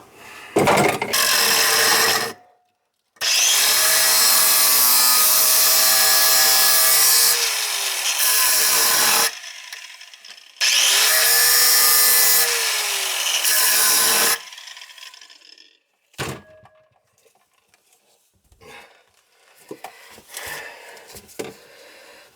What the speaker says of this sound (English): Probably gonna have to cut that off with a grinder.